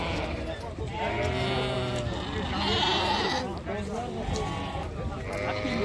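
Sheep and young ram lambs bleat repeatedly at a busy livestock bazaar, overlapping calls near and farther off with background crowd noise. People talk throughout.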